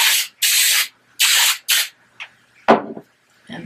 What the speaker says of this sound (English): One more spray, as if I didn't spray enough already.